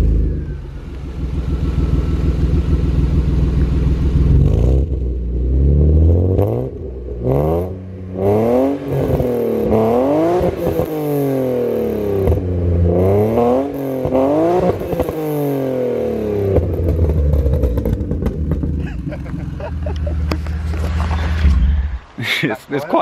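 A widebody BMW E36 328i drift car engine revs loudly and close, climbing and falling in repeated sweeping bursts for most of the stretch before easing off near the end.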